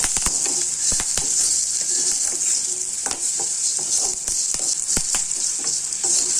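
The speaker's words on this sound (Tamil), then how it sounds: "இந்த சூட்லேயே நம்ம கருவேப்பிலையும் போட்டுடலாம்" Curry leaves sizzle loudly in a hot pan. A bright, continuous hiss is broken by frequent sharp pops and crackles throughout, close and with no talking.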